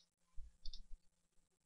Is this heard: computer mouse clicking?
yes